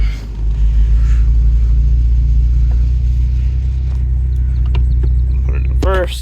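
Steady low rumble of a 1990 Volkswagen Mk2 Golf GL with a manual gearbox idling and rolling slowly through a parking lot, loud and continuous, with faint clicks and a short squeal near the end.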